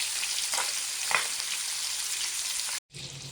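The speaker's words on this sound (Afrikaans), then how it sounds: "ek gaan nou die ander kant doen." Chicken pieces frying in a pan after being turned to the other side, a close, steady hiss of sizzling oil with a few soft crackles and scrapes, broken by a short cut before it resumes.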